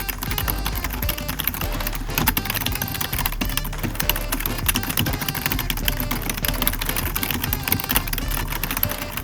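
Someone types quickly on a Logitech Wave Keys ergonomic keyboard with low-force plunger-type keys, producing a dense run of light, soft clacks close to the microphone with no talking.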